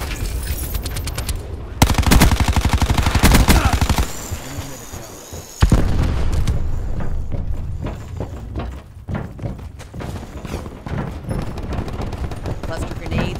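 In Call of Duty Black Ops 4, loud gunfire rattles in fast bursts as cluster grenades burst with heavy thumps and crackling scatter, followed by scattered shots and game voices.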